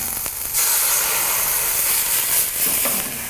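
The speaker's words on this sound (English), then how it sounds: "I'm gonna deglaze with a little bit of dry vermouth" Dry vermouth hits a hot pan while deglazing it for stewed tomatoes, raising a loud, continuous sizzling hiss of steam that swells briefly and holds for a few seconds.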